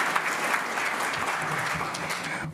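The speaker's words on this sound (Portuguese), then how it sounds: "E eu peço a todos uma salva de palmas a todas as marcas vencedoras da categoria Expressão." An auditorium audience at a Minas Gerais brand awards ceremony claps for the winners, a steady, dense round of applause that fills the whole moment before cutting off at the end.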